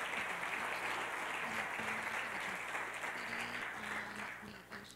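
A church congregation applauds steadily during a worship service, a dense wash of clapping with faint voices and a low musical tone underneath, fading slightly toward the end.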